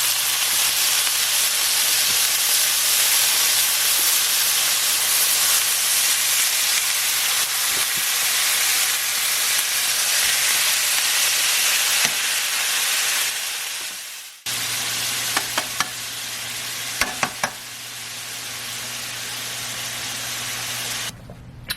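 A steak searing in a pan gives a loud, steady hiss that cuts off abruptly partway through, then returns with a few sharp clicks and pops.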